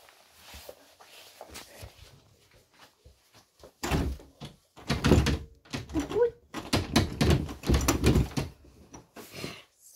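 A door being opened and shut, with a series of thuds, knocks and handle rattles, louder in the middle, while people talk in between.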